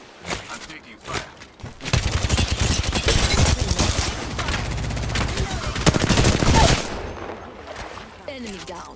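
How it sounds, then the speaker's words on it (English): Gunfire in the Apex Legends video game: a few scattered shots, then a long dense burst of rapid automatic fire lasting several seconds, with game voice lines heard over the action. "I'm taking fire."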